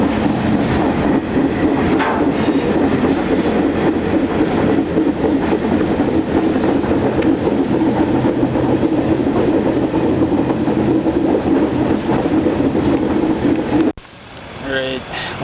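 A train rolls steadily along the rails near Brunswick, heard from on board as a continuous loud rumble and rattle. It cuts off abruptly near the end, and a voice speaks afterward.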